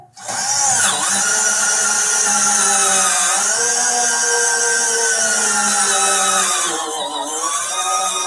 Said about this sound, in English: Drill those holes out.